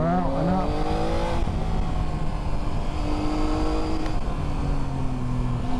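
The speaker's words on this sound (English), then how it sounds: "Once the throttle's open, it continuously and evenly rolled on throughout the rest of the corner." A Triumph Tiger 800 XCa motorcycle accelerates steadily out of a corner on a Dartmoor road, its engine note rising and falling in smooth sweeps over constant wind rush, loud and close throughout.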